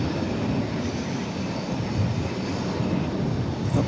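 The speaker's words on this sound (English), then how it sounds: "plane from Japan" Airplane at DFW Airport, a steady loud engine roar holding throughout the clip, close and continuous with no talk over it.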